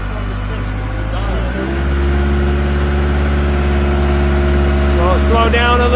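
Caterpillar 910 wheel loader engine, a 2021 machine in grading gear, running steadily near full throttle with a low droning rumble that rises and holds loud and close, voices talking over it.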